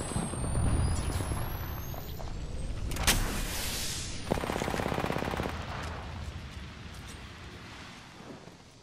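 Rapid automatic gunfire in a shooter video game, played as Mirage, crackles in loud bursts with a brief sharp blast and a hissing wind-down, over a steady rumble of game ambience.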